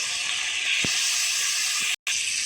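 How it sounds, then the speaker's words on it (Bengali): Spice paste frying in hot oil in a pan while cooking rohu fish with potatoes, a loud continuous hiss and sizzle that cuts out briefly near the end, with no talking. "মশলাও সুন্দর করে কষে নিতে হবে"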